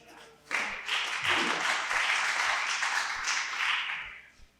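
An audience claps at a mandolin orchestra concert. The applause is a dense, steady wash that starts abruptly, holds at an even level for about four seconds, then fades out.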